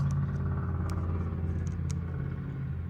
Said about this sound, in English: people with the loudest cars drive by every single time without fail